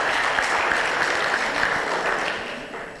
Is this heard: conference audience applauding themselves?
yes